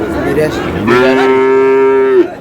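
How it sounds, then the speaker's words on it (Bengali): A Sahiwal bull calf at a cattle market gives one loud, close, drawn-out moo that holds steady for over a second before cutting off, over a noisy background. "শাহিওয়ালের বাচ্চা"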